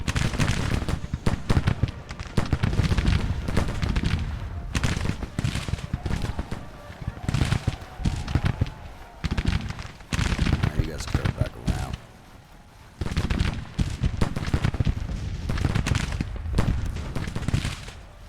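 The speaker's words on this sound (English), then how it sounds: "You boys firing. Fire, damn it." Dense musket and cannon fire in a Civil War battle game, loud and nearly continuous, with rapid cracking volleys and booms that ease briefly before surging again, while voices talk over the shooting.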